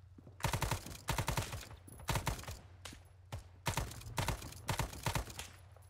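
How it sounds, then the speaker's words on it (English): Rapid bursts of automatic gunfire in Arma 3 S.O.G. Prairie Fire, a Vietnam War-era military shooter, with several distinct volleys of quick cracking shots about once a second and short pauses between them. "is there friendly shots to our northeast?"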